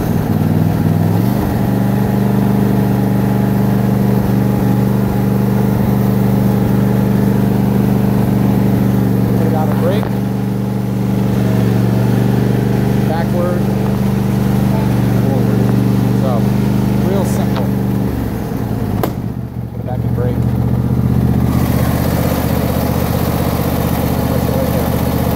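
A John Deere E130 lawn tractor's small engine runs steadily at a loud, constant drone for the whole stretch, with a brief dip in the sound near the end.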